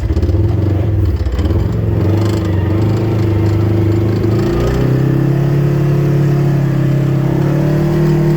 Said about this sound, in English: As expected, the rs1 started great.